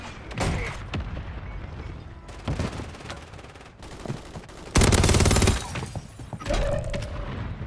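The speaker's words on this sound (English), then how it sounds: "Mortar strike, mortar strike." Mortar strike explosions and bursts of gunfire in the video game Call of Duty: Modern Warfare 3 Warzone, a string of loud blasts and rapid firing, with one especially heavy, sustained burst in the middle.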